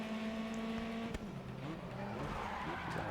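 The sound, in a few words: race car engine in video game Grid Autosport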